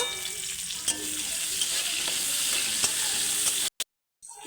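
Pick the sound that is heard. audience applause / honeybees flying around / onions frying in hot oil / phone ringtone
onions frying in hot oil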